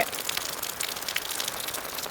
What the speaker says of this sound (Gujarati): જોરદાર વરસાદ આવે છે, ચારે બાજુ જો પાણી જ પાણી.